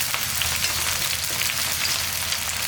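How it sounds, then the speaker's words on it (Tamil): Small onions sauté in a pan for a kuzhambu gravy, giving a dense, continuous close sizzle with light crackling throughout and no talk. "வெங்காயம் இந்த அளவுக்கு வதங்கினா போதும்."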